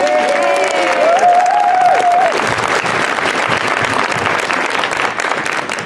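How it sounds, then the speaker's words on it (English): Students at a Christmas concert receive a round of applause from the audience, loud dense clapping filling the room throughout, with a brief musical tone and some crowd noise near the start. "So if we can give a quick round of applause for these students"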